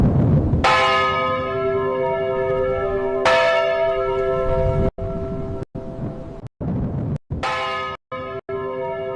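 A loud, resonant bell strikes three times with long ringing decays, followed by a series of shorter clipped tolls that cut off abruptly, with no talking.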